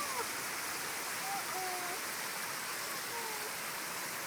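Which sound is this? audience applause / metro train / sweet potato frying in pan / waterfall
waterfall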